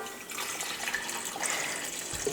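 Warm water poured from a cup into a bread dough mixer bowl, a steady, close splashing stream for a couple of seconds with no talk.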